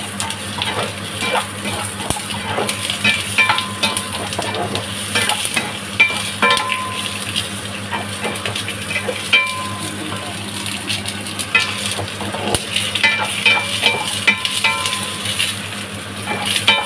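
Pork ribs fry in a pan with a continuous crackling sizzle, broken up by occasional stirring scrapes and clinks, close up and steady throughout.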